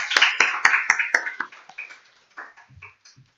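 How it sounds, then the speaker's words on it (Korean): Church congregation on Parents' Sunday claps for the elders: a brief burst of sharp, nearby hand claps that quickly thins into a few scattered, fading claps. "우리 어르신들에게 박수 한번 쳐주시기 바랍니다"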